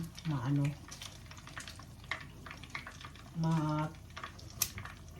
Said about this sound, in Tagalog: need all time to fry, deep fry